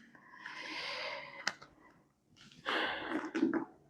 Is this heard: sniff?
yes